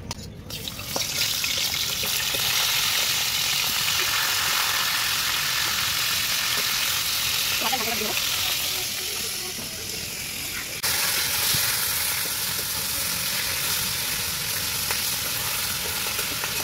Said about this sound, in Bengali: তো চলো এবার মাথাটা আমি ভালো করে ভেজে নেব।